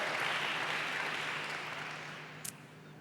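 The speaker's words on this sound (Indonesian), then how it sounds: "Tepuk tangan bagi Allah kita," A church congregation applauds in a steady wash of clapping that holds fairly loud and then eases off slightly over a few seconds.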